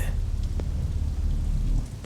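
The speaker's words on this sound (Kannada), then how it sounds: "ಆಚೆ ನೋಡಿದ್ರೆ ಅಷ್ಟೊಂದು ಮಳೆ ಬರ್ತಾ ಇದೆ" Heavy rain roars as a dense, steady wash with a deep rumbling undertone, brief and continuous without pauses.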